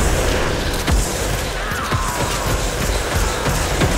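Explosions in the video game Warframe, a dense loud rumble with repeated booming hits and crashing debris over several seconds.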